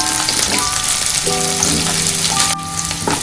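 Ginger, garlic and green chillies sizzle with onions in hot oil for a mutton curry, a close, continuous crackling fry with occasional stirring.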